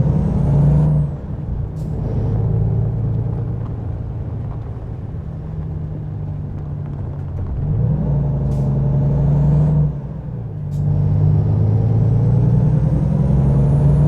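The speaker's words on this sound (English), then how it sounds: "Oh, this is a much noisier truck." A heavy truck engine in the game American Truck Simulator drones steadily and loudly, with sharp hissing bursts like air brakes releasing a few times along the way.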